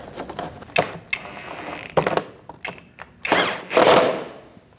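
A bolt being screwed in by hand on the engine splash shield and inner fender liner of a 2008-2014 Mercedes-Benz C300, with close ratcheting clicks, scrapes and mechanical rattles in short uneven bursts.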